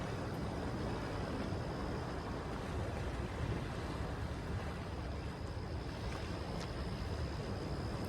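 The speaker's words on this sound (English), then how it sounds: "Just want to show you the waves." Ocean waves at sunset wash in a steady, dense roar of surf with wind rumbling across the microphone, continuous and fairly loud with no voices.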